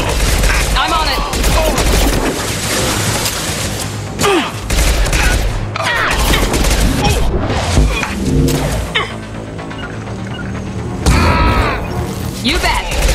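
Heavy gunfire in the video game Mass Effect 2, dense repeated bursts and booming impacts filling the whole stretch, with combat voices shouting over the shooting.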